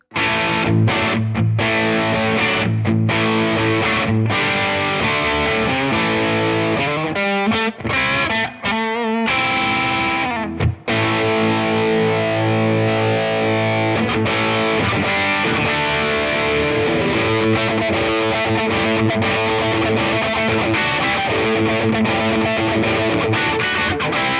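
Gibson electric guitar run through a Boss SD-1w overdrive pedal into a Marshall JCM 800 amp turned all the way up, playing loud, thick distorted chords and riffs with a brief gap of quick picked notes midway.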